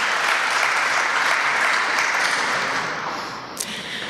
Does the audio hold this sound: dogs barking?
no